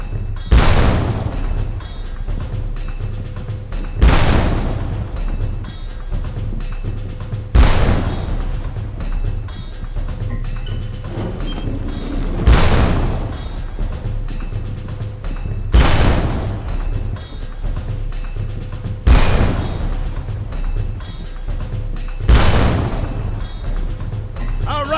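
Heavy booms and gunfire from the video game Darkest of Days, with an attack on machine gun emplacements. Loud explosions land about every four seconds over a steady rumble of battle.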